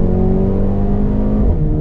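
A 2021 Mercedes-AMG GLB 35 SUV pulls out of a right-hand bend under throttle, its engine a loud, steady, close drone that holds for about two seconds with no talking.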